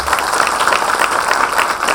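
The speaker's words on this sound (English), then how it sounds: "give a big round of applause for all of them" Parents and students applaud at a school annual day function, loud, close clapping from a large crowd with a slightly rhythmic, bouncing texture throughout.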